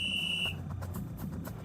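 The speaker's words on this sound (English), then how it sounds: "until the final whistle blows." A referee's whistle at a high school football game night gives one sharp, shrill blast lasting about half a second, followed by a low crowd and ambient rumble.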